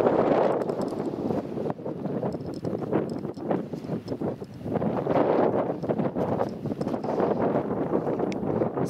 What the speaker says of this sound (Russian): ветер только сильный, прохладный